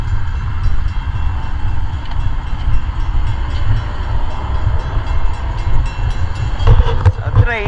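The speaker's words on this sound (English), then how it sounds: "It's a train." A train rumbles steadily past in Wood Dale, Illinois, its low continuous roll and rail clatter loud and close, with a brief higher squeal near the end.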